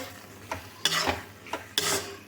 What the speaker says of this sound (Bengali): এবার এটাও ভালো করে নেড়ে চেড়ে নিতে হবে